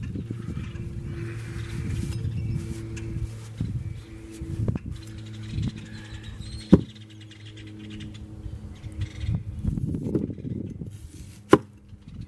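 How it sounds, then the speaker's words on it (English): Knife chopping onions for a T-bone steak and baked potato meal, a run of irregular knocks on a cutting board with two sharp louder chops standing out, close by amid low rumbling background noise. "just cut the onions"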